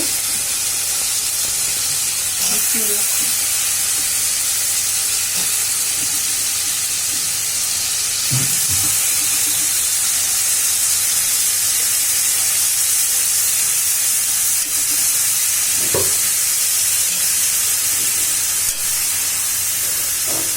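Vegetables land in hot spiced oil for a pabda fish curry and hiss in a loud, continuous sizzle, with occasional scrapes and clinks of a utensil.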